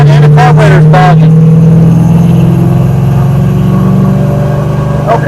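A cheap scrapyard notchback car's engine drones loudly and steadily while its bogging carburetor holds it in a labored, uneven rev, with brief voices over the rumble early on and again near the end.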